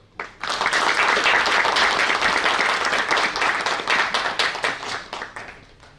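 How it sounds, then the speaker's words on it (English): An audience at a literary prize ceremony bursts into applause for the next speaker, a dense, loud wash of clapping that rises quickly, holds steady and thins out toward the end. "A round of applause"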